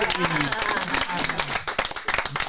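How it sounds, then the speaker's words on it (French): Audience applause for a town mayor at a concert or show, with a crowd clapping steadily while voices talk over it throughout. "je vous demande d'applaudir respectueusement Monsieur le maire"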